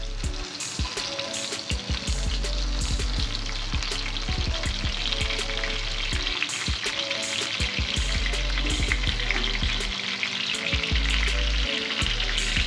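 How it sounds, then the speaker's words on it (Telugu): Stuffed brinjals fry in hot oil with a loud, continuous sizzle and crackle, broken by frequent stirring knocks and scrapes, and no talking. "ముందుగా స్టఫ్ చేసి పెట్టుకున్న వంకాయల్ని ఆయిల్లో ఫ్రై చేసుకోవాలి."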